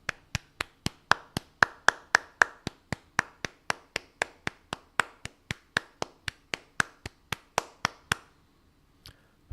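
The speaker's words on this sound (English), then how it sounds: "That deserves a round of applause." One person claps steadily during a live Orioles–Tigers baseball play-by-play stream: about thirty crisp, evenly spaced hand claps over roughly eight seconds, close and clear, then a final isolated clap.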